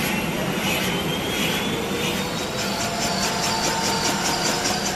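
A man imitates a helicopter starting up with his voice, making a loud, continuous whooshing roar with a faint rapid pulsing, like spinning rotor blades, and no talking.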